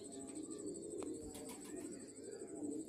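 Domestic breeding pigeons coo softly in a home loft, low rolling calls repeating under a steady background hum, fairly quiet and close.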